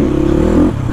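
A dirt bike engine revs hard and steady, a loud, close motor drone that eases slightly toward the end.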